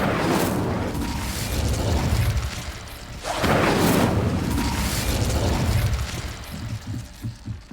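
An Incendio fire spell cast in Hogwarts Legacy gives two loud whooshing fiery bursts, a few seconds apart, each followed by a crackling roar before fading.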